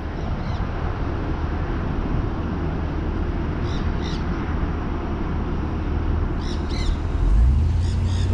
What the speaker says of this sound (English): Look at the parrots, baby.